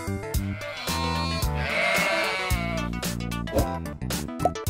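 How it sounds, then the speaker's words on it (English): Sheep bleating over a busy musical backing, a few wavering bleats rising clearly above the music in the middle of a short quiz segment. "Sheep."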